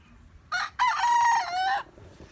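A rooster crows once nearby, a short opening note followed by a long, loud drawn-out call, with quiet around it.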